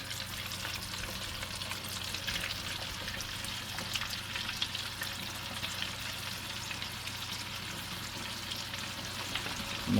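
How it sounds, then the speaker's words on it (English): Shrimp frying in hot oil during an outdoor winter fish fry, a dense, steady close sizzle and crackle that holds evenly throughout without talking. "Want a little miniature mushroom cloud in that hot oil when that shrimp makes contact with it."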